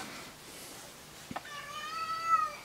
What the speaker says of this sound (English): Excuse the senile cat.